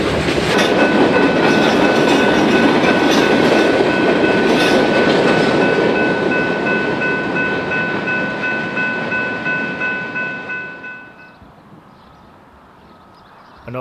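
A Union Pacific/CSX freight train made up of a long string of former Chicago and Northwestern covered hoppers rolls past close by with a loud, steady rumble and wheel squeal, then fades away near the end.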